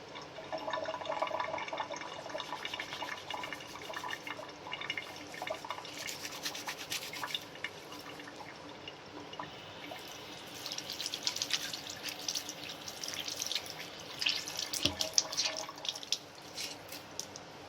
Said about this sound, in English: Now let's test. I will wash in the water.